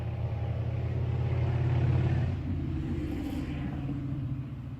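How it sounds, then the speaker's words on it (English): A motorcycle engine rumbles steadily nearby, its low drone swelling and then easing slightly as it moves along the road. "He was making other noises down the road on that motorcycle."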